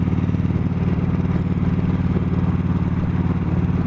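A Kawasaki Vulcan Vaquero motorcycle cruises at steady speed, its engine droning in an even, continuous rumble with wind noise layered on top, loud and close throughout with no pauses.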